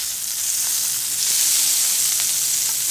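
Butter sizzling loudly in a hot pan before eggs go in, a dense, steady hiss that fills the whole stretch up close, with no talking.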